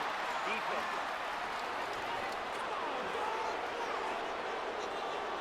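Stadium crowd in a Madden 24 NFL game, Bengals versus Chiefs, reacting to a penalty with a faint, sustained murmur and roar under a commentator's voice.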